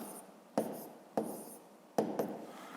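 A pen writes numbers by hand on paper for a fifth-grade math exercise, with a few quiet, distinct scratching strokes spaced about a second apart in a hushed room.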